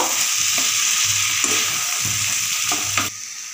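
Spices sauté in a pan with boiled chana dal for a vegetarian khero curry, giving a loud, continuous sizzle with rhythmic scraping stir strokes. The sizzle drops off abruptly near the end.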